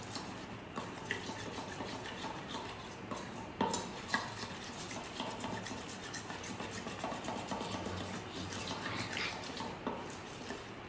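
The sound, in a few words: stirring melted chocolate with sunflower oil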